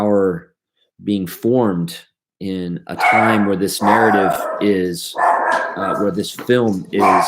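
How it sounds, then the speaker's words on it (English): A pet dog barks repeatedly in a home setting, short sharp yips clustered at the start, then continuing intermittently underneath a person lecturing about film. "sorry, that's my dog"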